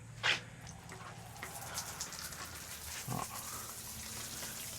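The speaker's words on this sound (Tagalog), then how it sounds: "Malakas ang tubig." Strong water flow from a tap in a comfort room at a farm and nature camp in Lumban, Laguna, heard as a steady, close rushing hiss throughout, with a brief knock near the start.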